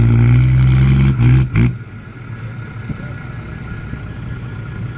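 A car engine revs hard while pulling a stuck car. The loud, droning roar holds steady, then drops off sharply and leaves a rumbling, noisy outdoor background.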